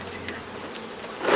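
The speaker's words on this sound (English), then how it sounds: "Majority of the bees are up there." Honey bees buzz steadily around an open hive, a faint, continuous drone that swells louder near the end as the swarm comes closer.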